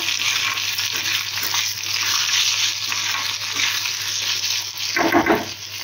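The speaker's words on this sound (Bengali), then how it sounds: "এই যে হচ্ছে দেখো, হচ্ছে আলু ভাজাটা হচ্ছে" Potatoes frying in a pan in a home kitchen give a steady, close sizzling hiss that runs throughout, with a louder crackling surge near the end and no talk.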